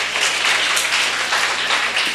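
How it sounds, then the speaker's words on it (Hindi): Loud, sustained applause from a large audience at a poetry contest, dense clapping continuing steadily throughout without breaks. "जोरदार तालियां बजाइए।"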